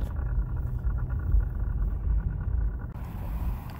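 A steady low rumble and drone fills the cabin of a moving Ram 1500 pickup with a worn CV axle and intermediate shaft, with a faint rhythmic undertone and no talking.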